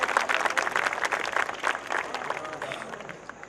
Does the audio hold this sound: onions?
no